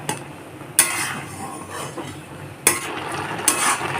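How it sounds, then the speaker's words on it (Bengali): Milk boiling in a pot for carrot halwa is stirred with a spoon, giving three sharp scrapes against the metal over a soft bubbling background, with no one talking. "দুধটা মাঝে মাঝে এইভাবে নাড়াচাড়া করব যাতে তলায় লেগে না যায়"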